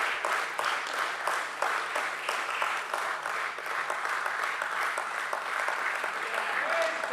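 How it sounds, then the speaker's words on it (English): Continuous applause fills the room at a healthcare firm's stock market listing ceremony, a loud, even wash of many hands clapping with a faint rhythmic pulse running through it. "Come on, keep the claps going."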